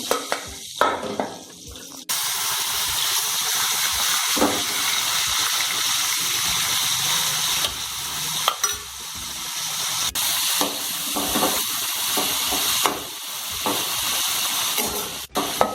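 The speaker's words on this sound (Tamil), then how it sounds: "இதே மாதிரியே எல்லா பீஸஸையுமே நம்ம இது மாதிரி வறுத்து எடுத்து வச்சுக்கணும்" Chicken pieces frying in a pan for fried chicken gravy, a loud continuous sizzle with bursts of spattering and stirring scrapes, close up with no talking.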